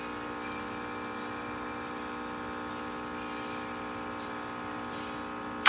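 A freshly serviced Rancilio Silvia espresso machine pulls a test shot with a steady, even pump hum and buzz that holds at constant loudness throughout, close up, ending with a brief click.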